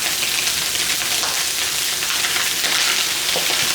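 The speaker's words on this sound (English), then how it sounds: "Okay, just stir fry this up." Chopped celery, red onion and button mushrooms sizzle steadily in a hot stir-fry pan, a continuous crackling hiss with no pauses, heard close up.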